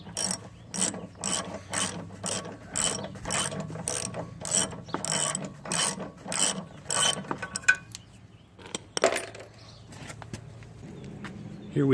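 Ratchet socket wrench, 3/16 socket, working a spark plug out of a lawn mower engine: a close, steady train of rapid clicking strokes for about eight seconds, then a few looser metallic taps and handling sounds.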